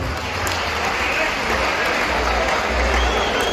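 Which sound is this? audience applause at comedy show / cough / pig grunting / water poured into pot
audience applause at comedy show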